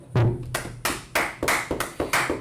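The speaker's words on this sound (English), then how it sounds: "Let's clap it up." A small class audience claps in a sparse, uneven way, with a handful of sharp, close hand claps spread out and irregularly timed, and no talking.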